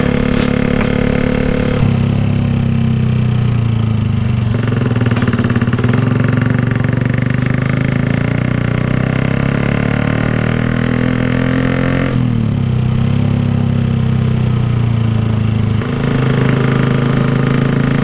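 A motorcycle engine and exhaust while riding on a morning road, a loud continuous close drone that rises and falls in pitch through several gear shifts.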